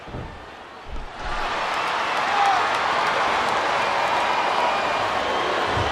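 Wrestling arena crowd in WWE Smackdown vs RAW 2008 cheering in a steady, dense roar that swells after a short quieter start and holds loud throughout, with no clear talk over it.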